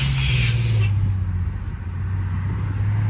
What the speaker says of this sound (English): Goddamn buses.